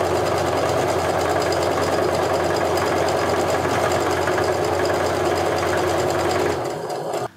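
A sewing machine runs continuously while stitching a strip onto a quilt block, a loud, close, steady mechanical drone for several seconds that stops abruptly near the end.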